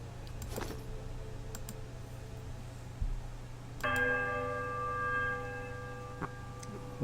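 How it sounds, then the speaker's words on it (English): The largest bell in a Pillars of Eternity bell puzzle is struck once, giving a loud metallic clang that rings on with shimmering, sustained overtones over a steady low hum, after a fainter earlier chime. "Warbling peal that grows to a painful shrillness before it diminishes to a mournful chime."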